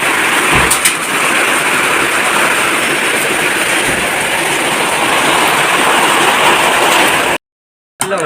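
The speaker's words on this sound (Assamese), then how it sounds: "দেখিছেনে শিলত পূৰা চাউণ্ড দি আছে পূৰা শিল পৰি আছে" A hailstorm with strong wind makes a loud, dense, continuous roar of hail pelting down, steady throughout and cutting out briefly near the end.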